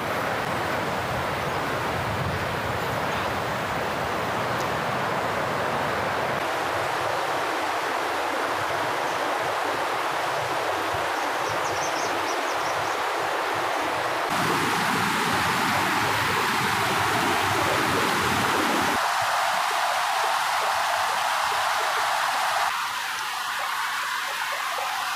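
Water tumbling over rocks like a small falls beside a river in a hill village, a steady, broad rushing wash that runs nonstop and fairly loud for the whole stretch, without any voices.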